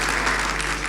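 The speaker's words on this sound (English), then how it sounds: "they don't have to get a better round of applause for Hanover than that" An audience at the opening ceremony of a UNDP youth conference bursts into a short, dense round of applause for Hanover parish. The clapping is loud and continuous.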